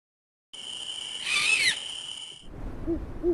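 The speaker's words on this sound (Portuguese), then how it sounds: "Um som profundo e distante na noite, o chamado de uma coruja" An owl hoots in the night, a deep, distant call heard alone against a quiet, steady background, with a second softer series of hoots following toward the end.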